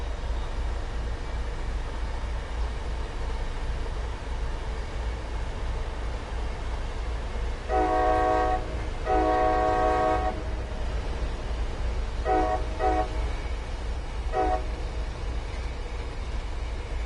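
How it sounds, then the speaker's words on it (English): HSP46 locomotive running on the Boston Worcester Providence route in Train Sim World 5, a steady low rumble with several loud two-tone horn blasts, two longer ones then shorter toots. "I love the sound of this loco."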